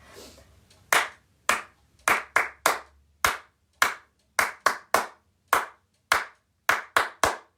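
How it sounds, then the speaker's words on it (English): Single sharp hand claps, about fourteen in an uneven, song-like rhythm, standing in for the spelled letters of the Bingo children's song; close, crisp and alone without voices. "now this is just clapping because it's all of the letters of the word bingo"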